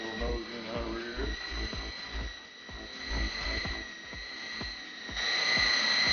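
An E-Sky Hunter RC helicopter flies with a steady high whine from its spinning main and tail rotors, accompanied by rhythmic low thumps, moderately distant and without speech.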